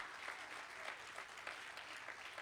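Dense applause from a church congregation during a sermon, steady and lively with a few sharper bursts of clapping throughout.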